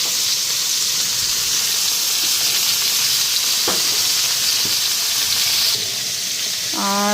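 Soaked dried fish (shutki) goes into a hot pan and sizzles loudly and continuously, a dense close hiss of frying with a few sharp clicks and a brief scrape of stirring near the end.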